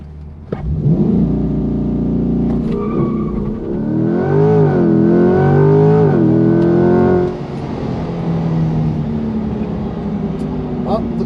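A 2020 Chevrolet C8 Corvette launches hard with some tire spin, its engine note climbing loudly and steadily before easing off to a lower cruising drone.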